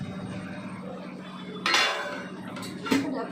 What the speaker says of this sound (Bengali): ঢাকা দেবো, এর মধ্যে বড় ঢাকাটা নিয়ে আসি